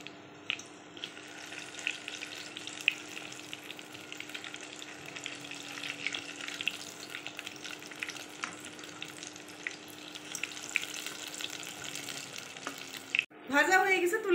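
Raw lentil and potato pakoras fry in hot oil, a continuous crackling sizzle held close and steady for most of the time before a brief break and a louder burst of handling at the end.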